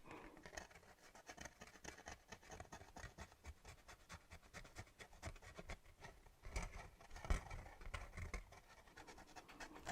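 Close, quiet ASMR scratching: dense, irregular scraping strokes with uneven bursts that grow a little stronger toward the end, with no talking.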